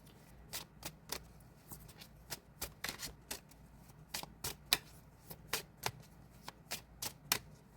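Tarot cards being shuffled and drawn, a run of crisp, close, quiet riffling snaps and slaps in an irregular rhythm, with no talking.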